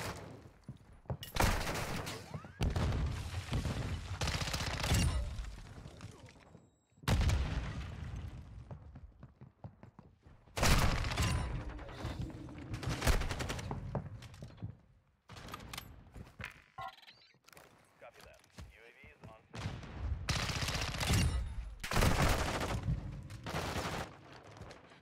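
MP9 submachine gun fire in a Modern Warfare 2.0 free-for-all match: rapid automatic bursts in sharp clusters broken by short silences, close and fairly loud, with occasional heavier booms.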